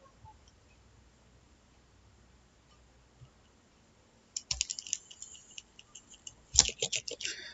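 A captcha is typed on a computer keyboard as a quick run of close, crisp key clicks after several seconds of near silence, with one louder tap near the end.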